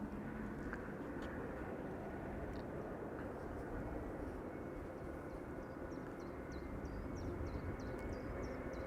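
A Hainan Airlines jet climbing out after takeoff from Amsterdam Schiphol gives a steady, distant broadband roar that holds evenly throughout, with faint high chirps over it.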